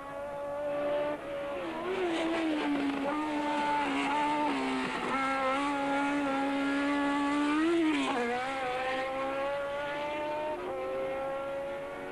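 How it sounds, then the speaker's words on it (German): 1975 Formula 1 race cars lapping the Nürburgring Nordschleife, a loud, continuous high-revving engine wail whose pitch climbs and drops as the cars accelerate and shift. "Rechts erkennen Sie noch den Wagen von Carlos Pace"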